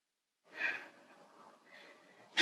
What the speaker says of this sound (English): I don't know if you guys can hear me breathing. It's probably really loud.